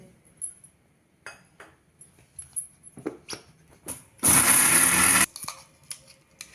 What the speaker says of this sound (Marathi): मिरच्या आणि आलं आपण क्रश करून घेऊया मिक्सरमध्ये